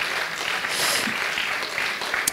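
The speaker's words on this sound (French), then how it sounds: "Oui, vous avez le droit de applaudir." An audience claps at a political conference on Europe, a dense, even patter of applause filling the short stretch with no break.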